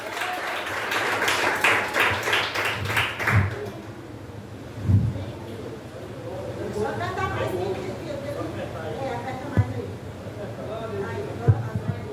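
A church congregation gives a brief burst of rhythmic clapping that fades after about three seconds, followed by a preacher's voice and murmuring in the room, with a few scattered knocks.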